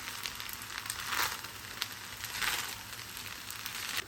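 Pasta with raw tomatoes and tomato sauce cooking in a pan, a soft, steady hiss with a couple of swelling scrapes from stirring, fairly quiet and close, no talking.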